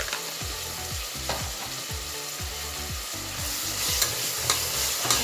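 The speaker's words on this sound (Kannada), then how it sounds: "ಮತ್ತೆ ಫ್ರೈ ಮಾಡ್ಕೊತಾ ಇದ್ದೀನಿ ಸ್ವಲ್ಪ ಶುಂಠಿ ಬೆಳ್ಳುಳ್ಳಿ" Ginger garlic paste fries in a pan with a steady sizzle while a spoon stirs and scrapes in a quick, regular rhythm, close and clear with no talking.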